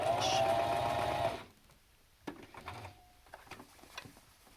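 A sewing machine stitches a fabric mask in a short, loud run that stops abruptly, followed by quiet fabric handling and small clicks.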